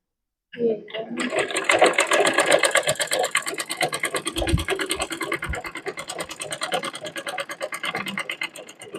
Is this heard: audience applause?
no